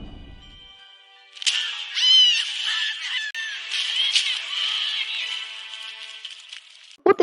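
A cat from the film Coraline gives a series of drawn-out, wavering meows close to the listener, separated by short pauses, ending in a sharp noise with no talking.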